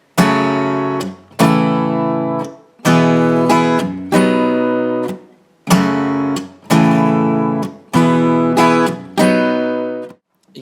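Guitar playing a song's riff, a repeating pattern of strummed chords in close, loud bursts, each ringing then cut off with short gaps between, alone without talk.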